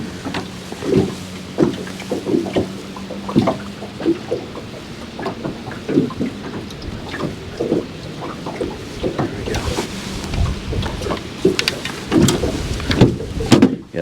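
Strong wind buffets the outdoors at a fishing spot, a steady rushing roar with gusty swells and scattered knocks and thumps from handling gear, no talking.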